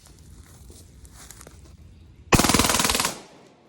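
A pistol fitted with an FRT trigger fires a rapid string of about a dozen loud, close shots in under a second, following quieter shuffling and handling noises.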